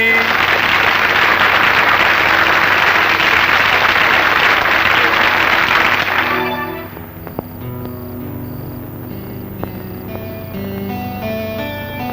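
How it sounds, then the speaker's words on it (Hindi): Audience clapping at a principal's farewell, a dense, loud burst of applause for about six seconds that cuts off abruptly and gives way to music. "चलो ताली बजाओ भाई।"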